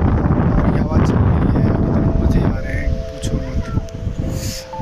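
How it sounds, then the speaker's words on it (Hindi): Strong wind blowing by a riverside near Rishikesh, roaring and buffeting close to the microphone, easing off partway through with faint background sounds. "और क्या ही हवा चल रही है यार"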